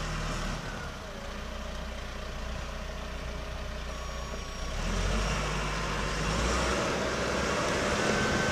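A 2009 JLG G12-55A telehandler running, its diesel engine a steady low idle rumble that swells slightly in the second half, alone with no talking.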